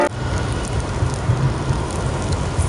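Steady rain falls on a German city street, a dense, loud hiss of drops on pavement filling the whole stretch evenly, with no voices.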